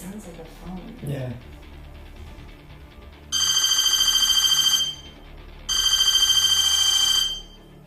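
An electronic phone-like ringing tone sounds in two long trilling bursts, loud and close, after brief talk at the start.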